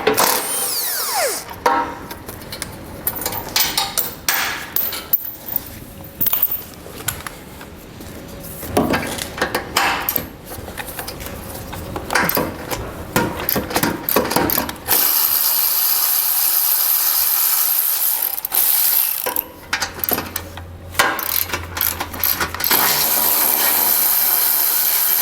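A socket ratchet works bumper bolts loose on a 2021 vehicle, with bursts of rapid clicking and clattering handling noise, then a steadier mechanical whir in the later part.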